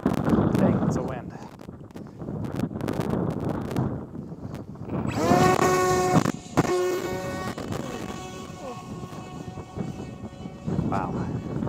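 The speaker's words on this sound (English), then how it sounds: "Dang, that's a wind." Strong gusts at a clifftop buffet the microphone with heavy, rumbling wind noise that rises and falls, while a high whining motor tone comes and goes and voices speak briefly.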